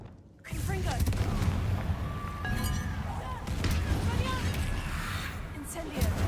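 Confringo blasting curse in Hogwarts Legacy, a sudden loud burst followed by a sustained roaring, crackling rumble of combat effects with bright clinks, lasting several seconds.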